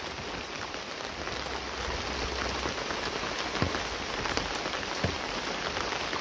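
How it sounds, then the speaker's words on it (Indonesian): Heavy rain falls around a house garden with plants, a loud, dense and continuous patter of drops on surfaces, close by and with no talking. "ini lur kondisinya hujan lur selalu hujan setiap hari hujan lur"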